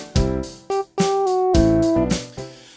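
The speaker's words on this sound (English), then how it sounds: "We have drums, bass, piano, and a lead synth melody." A pop song demo of a deliberately plain chorus, with drums, bass, piano and a synth lead carrying the melody instead of a voice, played loud and alone in short phrases with held synth notes.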